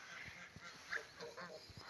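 Domestic geese honk in a backyard farmstead, with several short, nasal calls at moderate distance over a soft, constant background.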